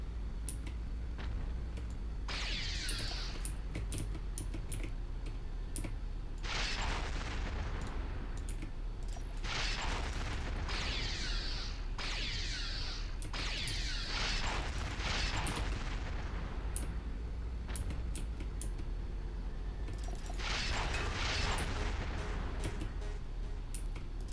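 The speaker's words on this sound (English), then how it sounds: "I got caught in my own explosion" Explosions and bursts of gunfire in the mech combat game Heavy Gear II, a string of loud, noisy blasts repeating irregularly over a constant rumbling background, with no talking.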